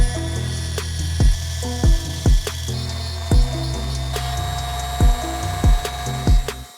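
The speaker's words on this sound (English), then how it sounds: "we'll use the Dremel to sand away the section of the mask that hides the ninjas' faces" A Dremel rotary tool sands away part of a plastic Lego Ninjago minifigure mask, a steady whine punctuated by several short, loud grinding bursts as the bit touches the piece, close up with no talk.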